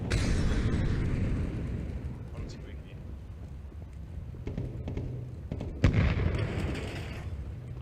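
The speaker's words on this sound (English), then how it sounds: "Throwing flashbang." A flashbang grenade goes off in a first-person shooter game, a rumbling blast that fades into low booms, with a sharp burst near the end. A voice talks over the action.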